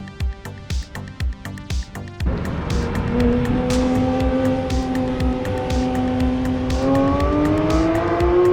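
Purple Porsche 992 driving by, first a rapid rhythmic engine pulsing, then a smooth rising engine tone as it accelerates past, fairly close and loud.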